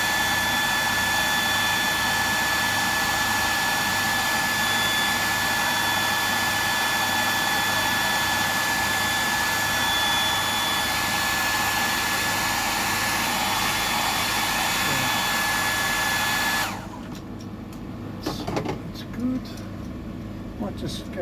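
A hair dryer blows steadily and loudly for most of the clip, drying a tailor fish rigged as bait, then switches off, leaving quiet handling sounds.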